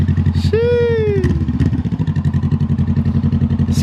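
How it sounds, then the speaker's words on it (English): A 2020 Honda CBR500R motorcycle with its muffler deleted throbs loudly and close in a rapid, even pulse, with a person's drawn-out vocal exclamation briefly rising over the engine. "Same day we did the muffler delete on the motorcycle"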